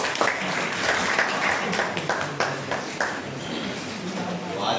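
Applause from an audience at a formal inauguration ceremony, a moderate patter of clapping with scattered sharp claps standing out, heard against room noise and some murmuring.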